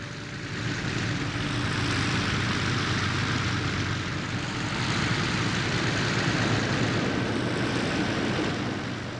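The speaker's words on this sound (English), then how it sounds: "the throbbing piston engine roar of the Sky Raiders" Douglas A-1 Skyraider piston-engine attack aircraft producing a steady, loud throbbing roar that swells slightly midway and holds close throughout, with no voices.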